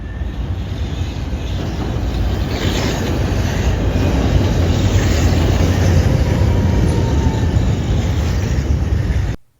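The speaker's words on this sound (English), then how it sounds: "we see a pink line bound for 54th and Cermak come into Clinton." Chicago CTA Pink Line train bound for 54th/Cermak pulling into Clinton station, a steady loud rumble and rail roar that holds throughout before cutting off abruptly at the end.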